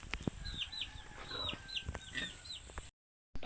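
Farmyard chickens cluck in a rapid string of short calls nearby in a rural province setting, with faint background noise before the sound cuts out abruptly.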